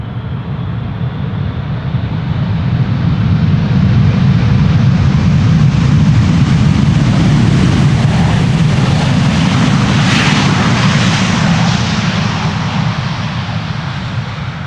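A Saudia airliner, first flown in 1996, arrives at Amsterdam Schiphol Airport in crosswind conditions, its loud, steady jet roar swelling and holding with a rising whine, close and continuous throughout.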